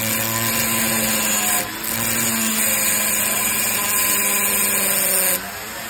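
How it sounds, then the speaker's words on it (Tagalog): A power tool cuts through a steel part, giving a steady, loud grinding whine with high metallic overtones that runs almost unbroken, with a short dip near two seconds and a drop in level at the very end. "Sinimulan na nga namin tabasin iring bakal na rin kaso gaano kaya katagal?"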